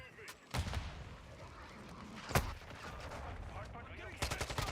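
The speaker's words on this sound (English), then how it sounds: "Friendly cruise missile deployed." Friendly cruise missile strike exploding in Call of Duty: Modern Warfare 2, heard as a few loud, sharp explosive blasts with rumbling low end, one big hit mid-way and bursts near the end, over continuous game noise.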